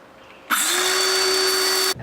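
A circular saw rips through plywood in one sharp burst lasting about a second and a half. The high whine starts and stops abruptly, close and loud.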